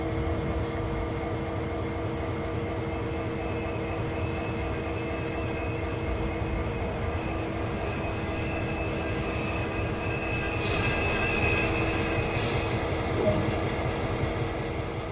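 A diesel SD40 locomotive in Train Sim World 2 rolls toward a fuel rack, a continuous loud engine drone with a layered mechanical hum and rumbling wheels, plus two brief bursts of hiss near the end, with no speech.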